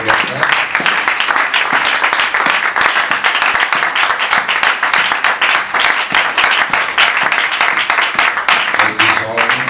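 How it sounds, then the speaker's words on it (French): A church congregation at an anniversary service in Durban, South Africa applauds for the brothers with loud, sustained clapping from many hands. Voices and cheers mix in with the clapping throughout. "Nous applaudissons pour les frères."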